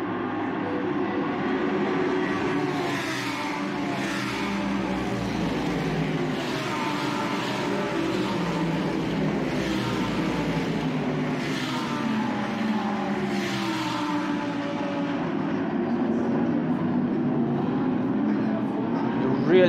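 GT race cars at a Blancpain GT Series event sweeping past after lap 1, a steady roar of engines with several passes swelling and fading, while someone talks over the noise throughout.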